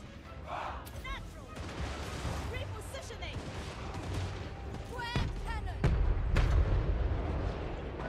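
Cannon shots boom in a Total War: Warhammer 3 battle as the Grand Cathay army fights, with several deep blasts and crackling impacts scattered over continuous battle noise, growing heavier toward the end.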